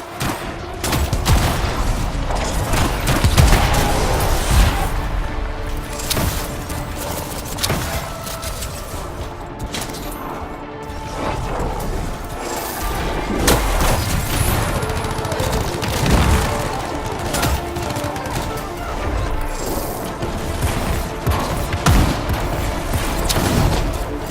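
Gunfire sustained across a long, busy battle: repeated sharp cracks and booming volleys layered over dense, constant action noise at steady high loudness.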